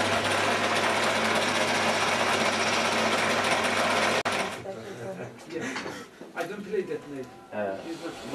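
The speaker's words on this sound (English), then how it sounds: "On a lathe, he crafts the mouthpiece from a bull's horn." A lathe turns a bull's horn mouthpiece with a steady whirring drone for about four seconds, then stops abruptly; a voice talks afterward.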